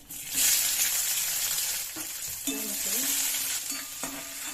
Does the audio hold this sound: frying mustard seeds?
yes